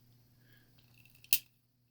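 Flush side cutters snip a plastic part on a model monster truck chassis, making one sharp, close click over a quiet background hum.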